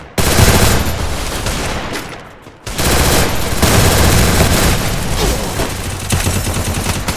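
Sustained automatic MP40 fire in the Free Fire video game, rapid bursts hammering close and loud, with a short pause before the shooting resumes.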